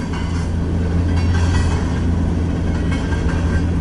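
Loud and close, a miles-long freight train grinds past in Fremont, Nebraska, its cars producing a steady heavy rumble with faint rhythmic clatter.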